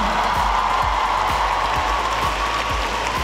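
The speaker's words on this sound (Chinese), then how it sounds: "有被电到的人来一点掌声" A concert audience claps steadily after a singer sings on stage, a dense patter of applause that carries on without a break.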